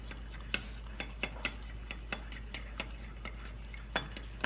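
Vegan gluten-free scone batter being stirred in a bowl, a steady run of soft scraping clicks as the spoon works through the thick mix, close and fairly quiet with no talk.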